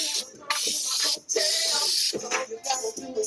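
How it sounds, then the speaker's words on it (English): Brake cleaner sprays in several loud, close hissing bursts with brief pauses between them, heard while working on a Ford F-150 timing chain. "I love brake cleaner."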